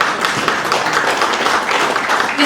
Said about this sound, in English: Just keep clapping till he gets it.